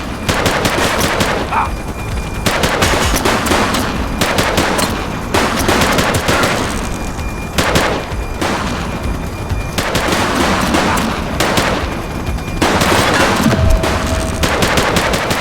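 Loud, close gunfire rattles through a police shootout in the game The Precinct, with dense automatic bursts broken by brief pauses, sustained across the whole stretch.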